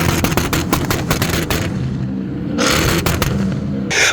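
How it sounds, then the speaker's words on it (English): Loud, deafening pops and bangs crack rapidly from the exhaust of a B6/B7 Audi S4 fitted with XS Power long tube headers, a dense volley of sharp bursts that thins out and then returns near the end. "it'll also make the biggest, deafening, drummer boy sounding pops and bangs until your heart is content."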